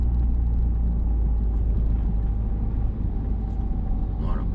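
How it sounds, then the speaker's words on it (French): A car engine winds down as the driver lifts off the accelerator approaching a red light, a steady low rumble easing off gradually, heard from inside the cabin with no talk over it. "Je vais lâcher l'accélérateur, laisser décélérer tranquillement."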